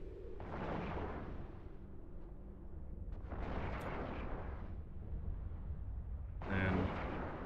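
Ship weapons fire in EVE Online comes as three heavy booming bursts separated by quieter rumbling gaps, fairly faint overall, with no talk over it.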